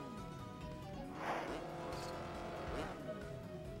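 Motorbike engine buzz in the racing video game Excitebike World Rally, a continuous droning tone that rises and falls with two brief surging peaks, heard alone without talk.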